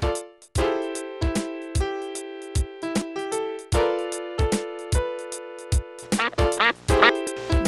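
A duck quacks repeatedly in short, loud, nasal bursts, with brief pauses between calls and a quicker run of quacks near the end.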